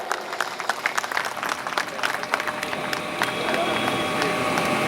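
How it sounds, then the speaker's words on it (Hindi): An audience at a district-level Manas Gan competition in Ganj Mandi, Durg claps steadily in a loud, sustained burst. The applause thickens toward the end. "जोरदार ताली"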